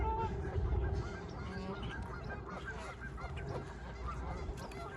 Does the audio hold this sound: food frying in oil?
no